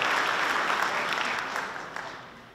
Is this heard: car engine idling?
no